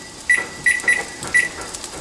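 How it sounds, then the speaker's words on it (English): A kitchen timer beeps four times in short, bright, evenly spaced tones while English muffins cook, loud and close in an otherwise quiet kitchen. "oh, there's my timer"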